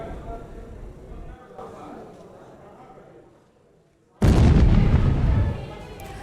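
Bombardment by the Israeli army against infiltrators: a quiet stretch with indistinct voices gives way to a sudden, loud, booming blast that roars for over a second before easing off.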